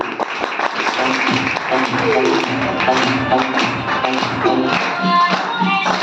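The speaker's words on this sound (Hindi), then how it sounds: "एक बार जोरदार ताली" An audience bursts into dense, continuous clapping at a gathering in honour of its leaders, loud and close, with a voice and tonal sounds running underneath.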